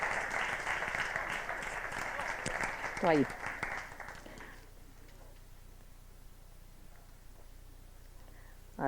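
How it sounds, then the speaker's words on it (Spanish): Applause from an audience at an award ceremony welcoming guests to their seats, a brief spell of clapping that fades out partway, followed by a quiet room with a voice speaking. "Adelante, un fuerte aplauso para ellos, por favor."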